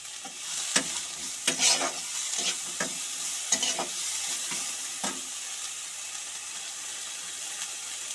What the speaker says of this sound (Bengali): সবগুলো আমি একসঙ্গে ভালোভাবে ভেজে নেব। এর মধ্যে আমি দিয়ে দিচ্ছি কিছুটা নুন